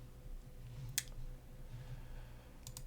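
Two crisp computer mouse clicks during Fusion 360 CAD modeling, one near the start and a quicker double near the end, quiet over a low steady room hum with no talking.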